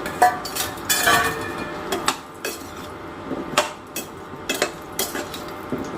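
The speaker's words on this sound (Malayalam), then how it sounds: "നമുക്കിങ്ങനെ ഇളക്കി നാരങ്ങ പൊട്ടണതിന് മുമ്പ് വാങ്ങിയെടുക്കണം കേട്ടോ" Whole lemons for pickle are stirred in hot oil in a pan, giving repeated close metallic scrapes and clinks of the spoon against the pan in an irregular rhythm, with no talking.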